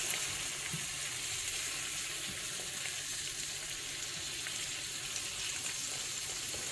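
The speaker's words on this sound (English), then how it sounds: "Just gonna fry this up and I'll show you what it looks when I'm done." Food frying in butter in a pan gives a steady, continuous sizzle with soft crackles, even and fairly close throughout, with no talking.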